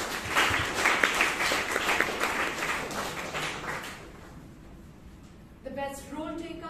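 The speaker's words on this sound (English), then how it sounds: "let's give him a round of applause" An audience at a Toastmasters meeting in Bangalore gives a round of applause, a few seconds of moderate clapping that fades out before a voice begins speaking.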